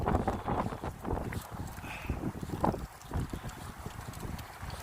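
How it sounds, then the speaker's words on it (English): Strong wind blowing into a microphone outdoors at Wincobank: a heavy, uneven low rumble with gusty buffeting that swells and eases throughout, with no other clear sound. "it is very windy"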